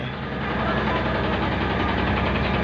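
A used car's engine idles steadily nearby, giving a continuous low, even rumble with a faint regular pulse and no voices.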